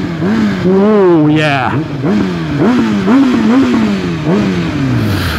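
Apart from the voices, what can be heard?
Kawasaki ZX10R motorcycle exhaust revving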